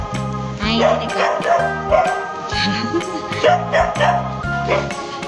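Several dogs bark and yip in bouts at close range, the barks short and overlapping with whimpers mixed in, in a household setting.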